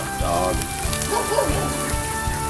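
Dogs bark repeatedly in a steady run of close, loud woofs near an outdoor grill where brats and kielbasa are cooking, over a constant hiss of background noise.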